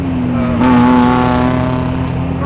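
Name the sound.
2023 Ford Bronco 2.3L EcoBoost exhaust with FlowMaster FlowFX muffler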